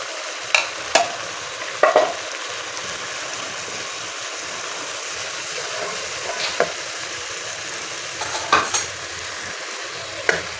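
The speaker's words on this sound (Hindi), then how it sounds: "मीडियम फ्लेम पे इसे हमने फ्राई करना है अच्छे से।" Red chillies frying in oil in a pan over a medium flame for moong dal tadka, a steady close sizzle with occasional sharp scrapes and clinks of a spoon stirring.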